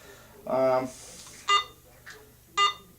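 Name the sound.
Garrett AT Pro metal detector beeping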